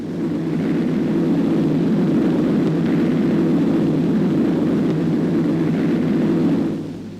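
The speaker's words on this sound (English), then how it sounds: "Carriers, lying back of the main fleet, sent in hundreds of bombers." WWII carrier-launched bomber aircraft over Iwo Jima in 1945, a loud, steady droning engine roar holding close and constant for several seconds before cutting off, with no voices.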